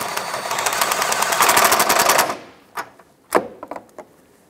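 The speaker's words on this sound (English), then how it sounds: "Now I'm going to go ahead and tighten our lower bolt here." Rapid ratcheting of a wrench tightening the lower bolt on a 2005-2009 Subaru Outback engine, a loud dense clicking run for two seconds, then a few separate sharp clicks and knocks.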